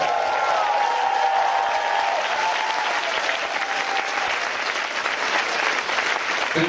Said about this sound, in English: Now please give a big round of applause for Kun Bell.